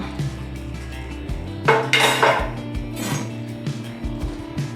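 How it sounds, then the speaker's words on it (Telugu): Metal clanks and clinks of a pressure cooker lid being handled and opened after cooling in a home kitchen, a few scattered knocks with a brighter clattering burst near the middle, close and moderately loud. "కుక్కర్ ఆరింది, ఇప్పుడు ఓపెన్ చేస్తామా"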